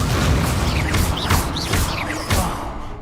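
An Incendio fire spell is cast in Hogwarts Legacy, with whooshing magical bursts and rising swirls that repeat several times over a steady, loud game backdrop.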